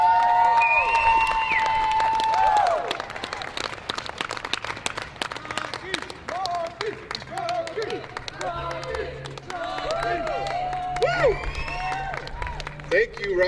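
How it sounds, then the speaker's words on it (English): A crowd at a March Against Monsanto rally claps and cheers after a speech, loud at first and then settling into scattered applause and murmuring voices. "Give him another round of applause, folks."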